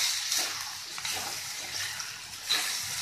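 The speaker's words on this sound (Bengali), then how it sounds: "তলায় যাতে লেগে না যায় তার জন্য একটুখানি জল দিয়ে দিচ্ছি" Water poured into a pan of frying masala and green jackfruit, a steady watery sizzle and splash running the whole time with a brief louder burst near the end.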